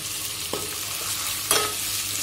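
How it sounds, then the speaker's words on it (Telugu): Eggs being stirred and fried in hot oil in a pan, a steady low sizzle with two brief spatula scrapes against the pan, alone without talk. "ఎగ్స్ మంచిగా నూనెలో గోలించుకొని కలుపుకోవాలి"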